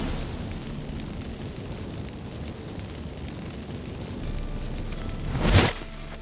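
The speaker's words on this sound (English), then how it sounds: "Get ready for some magic fireworks." Magic fireworks set off by burning incense in The Witcher 3 video game rise from a low rumbling hiss into one sharp, loud burst near the end, with no talking.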